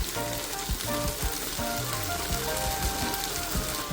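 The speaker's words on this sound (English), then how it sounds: "Just let it cook and simmer for a short while" Beef and mushrooms simmering in a pan make a soft, steady sizzle with fine bubbling crackle throughout. Faint background music plays underneath.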